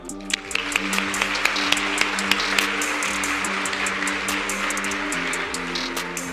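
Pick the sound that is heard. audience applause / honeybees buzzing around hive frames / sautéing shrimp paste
audience applause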